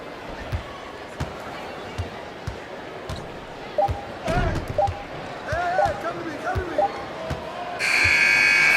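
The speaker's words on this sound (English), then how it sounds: "Final buzzer sounds" Final buzzer in an NBA 2K21 basketball video game, heard after a stretch of ball bounces and squeaking sneakers with game commentary; the buzzer blares loudly and continuously at the very end.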